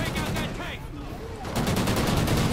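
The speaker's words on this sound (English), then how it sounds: "we're getting shot up bad" Rapid gunfire crackles through a Call of Duty: Ghosts battle in dense bursts, with a brief lull in the middle and a voice talking over part of it.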